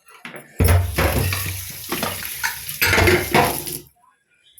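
A metal cooking pot scrubbed and rinsed, with loud clanks and scraping of pans and utensils in busy bursts, then fading to quiet near the end.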